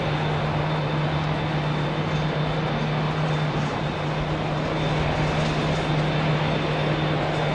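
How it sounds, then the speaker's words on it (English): Aircraft engines at Heathrow airport roar as a steady, loud, unbroken wash of jet noise with a constant low hum underneath, and no talk. "Listen to that cacophony of engines"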